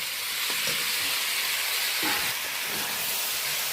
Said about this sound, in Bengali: এবার কষানো চিংড়ি মাছ আর মশলার সাথে ঝিঙেটা ভালো করে মিশিয়ে নিচ্ছি